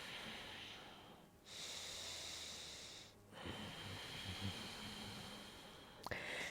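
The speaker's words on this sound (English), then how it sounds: "Inhaling and exhaling." Slow deep yoga breaths, one long airy inhale and one exhale separated by short pauses, soft and close, followed by faint rustling.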